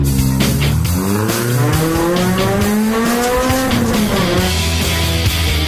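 A touring car with a top driver at the wheel accelerates hard through a left turn, the engine note rising and falling loudly up close while the tyres squeal and skid throughout.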